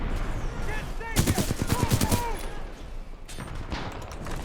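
Flatline assault rifle fire in Titanfall 2 multiplayer, a rapid burst of automatic shots in the middle, then scattered further gunfire with game ambience and voices in the background.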